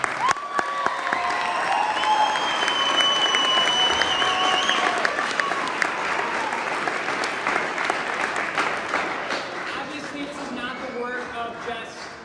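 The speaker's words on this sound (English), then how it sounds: "I think they deserve another round of applause." An audience at a youth theater production of Annie Jr. gives the cast and crew a sustained round of applause with some cheering, dense clapping throughout that gradually tapers toward the end.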